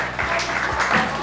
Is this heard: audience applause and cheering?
yes